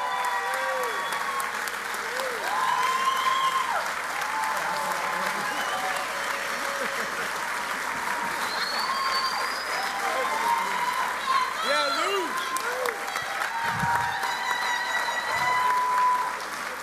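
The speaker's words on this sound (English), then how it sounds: "Let's have a big round of applause" An audience at a Labor Day breakfast applauds an introduced union leader, steady, full clapping sustained throughout with cheers and voices mixed in and a few louder bursts near the end.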